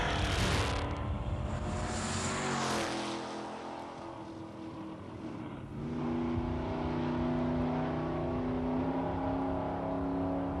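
A 1971 Ford Maverick and a Chevrolet Nova 396 launching side by side at a drag strip, with loud sustained engine roar that dips briefly midway and then surges back, heavy and full throughout.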